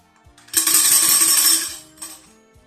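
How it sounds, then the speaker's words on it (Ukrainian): A tambourine shaken loudly for about a second, bright jingling metal rattles, followed by a shorter, softer shake. "Відкриваємо, що звучало? Так, це бубон."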